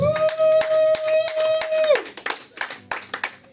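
A church congregation at a Sunday service claps in rhythm to acclaim Jesus, steady sharp hand claps under a sung or sustained vocal note that fades out, leaving the claps to continue alone.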